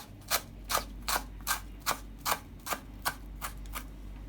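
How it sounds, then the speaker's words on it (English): A knife chops through kale leaves on a board, about a dozen crisp, evenly spaced cuts in a steady rhythm, close and clear over a low background hum. "So as you can see, I'm almost done with cutting."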